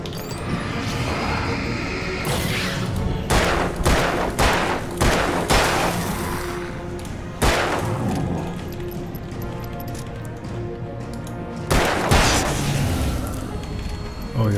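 A revolver fires repeatedly in the video game Alan Wake, sounding as loud booming shots in irregular clusters. Rumbling ambience fills the gaps between shots.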